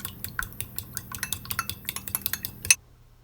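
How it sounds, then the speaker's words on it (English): Rapid clinking strokes of a whisk beating cracked eggs in a bowl, a steady run of sharp metallic taps ending in one louder knock, close and alone. "I first start off by cracking the eggs and then giving it a good whisk"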